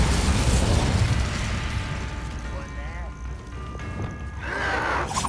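A Bombarda spell explosion in the game Hogwarts Legacy gives a loud, rumbling blast that fills the first seconds, then fades into game noise, with brief tonal effects and a voice near the end.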